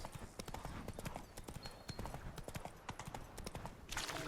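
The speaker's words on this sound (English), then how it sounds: "Bloody fine mount. Good stance. Powerful rump. Stable withers." Horse hooves clip-clopping in the Witcher 3 video game, a quick steady run of close, crisp hoofbeats that continues throughout under a quiet background.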